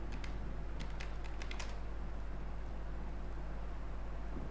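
Clicky keystrokes on a computer keyboard while writing a formal letter in MS Word, a quick burst of close taps early on followed by quieter scattered typing over a constant low electrical hum.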